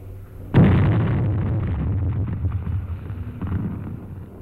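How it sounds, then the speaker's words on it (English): A hand grenade goes off inside an enemy dugout in an old World War II training film: one sudden heavy blast followed by a long rumbling decay and wind-like noise, with no voices. "Toss in a grenade and let them divide it."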